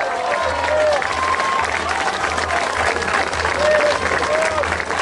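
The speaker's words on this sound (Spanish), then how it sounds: "¿Cuánto le dan palmas?" A church congregation at a sermon breaks into sustained applause, many hands clapping together at close range, with scattered shouts and a low rhythmic thumping underneath.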